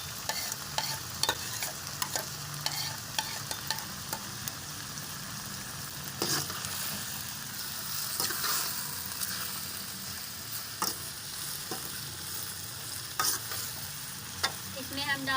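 Onions with ginger, garlic and green chili paste fry in a pan for karela curry, a continuous soft sizzle broken by repeated scraping and clacking stirs at an irregular rhythm, close up with no talking.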